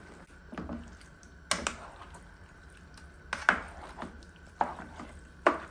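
Food cooking in a pan while someone stirs it, scraping and knocking strokes of the utensil against the pan every second or so, over a low background hum.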